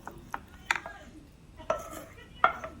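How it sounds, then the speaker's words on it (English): Oatmeal patty ingredients with cilantro and an egg are stirred together in a bowl, with a few sharp utensil clinks against the bowl spaced about a second apart over a quiet background. "Mix that all together."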